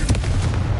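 A Confringo explosive spell in Hogwarts Legacy cracks out as a quick pair of punchy blasts at the start, then leaves a short, booming low-end rumble.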